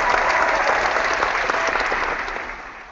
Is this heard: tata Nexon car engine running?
no